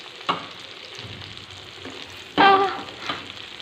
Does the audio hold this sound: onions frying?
yes